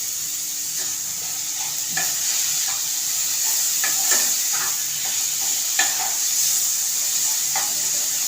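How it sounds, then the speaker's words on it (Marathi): Chopped onion and tomatoes fry in a pan for an egg masala gravy, a bright continuous sizzle punctuated by repeated spatula scrapes and taps as the mixture is stirred, close and fairly loud with no talk. "मी हा चॉप केलेला कांदा टाकते टोमॅटो टाकते"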